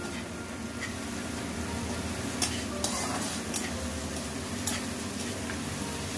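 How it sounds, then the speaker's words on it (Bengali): Green chili paste frying in a pan, a steady close sizzle under repeated scraping strokes of a spatula, with a few brighter clicks against the metal and no voices. "এটাকে এবার একটুখানি নেড়ে দিতে হবে।"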